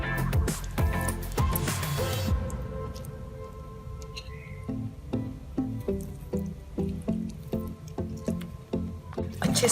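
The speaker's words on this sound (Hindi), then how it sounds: "अच्छे से मिक्स कर लेते हैं।" Chicken is mixed by hand with ginger garlic paste, salt and lemon juice for karahi, giving rhythmic wet squelches and squishes close up, following a loud clattering burst at the start.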